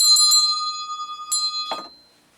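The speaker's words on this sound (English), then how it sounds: "I'm inspired to ring the bell" A small hand bell is rung in a sewing workshop: a few quick bright rings followed by a single strike, with a clear sustained tone that decays to silence.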